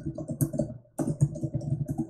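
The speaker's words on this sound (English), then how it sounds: "who's typing so loud, Dave?" Fast, loud typing on a computer keyboard nearby, rapid clacking keystrokes with a brief pause midway.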